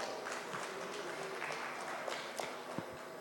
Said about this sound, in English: Please welcome him on the stage with a round of applause.